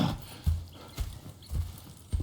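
Horse hooves clip-clop in a Red Dead Redemption 2 scene, a steady rhythm of thudding steps roughly every half second over a low ambient bed, fairly close.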